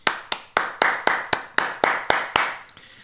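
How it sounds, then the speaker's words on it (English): Single hand claps made right beside a desk microphone, about ten sharp, loud, close claps in an even rhythm, each ringing out briefly before the next. "If I clap it next to the microphone,"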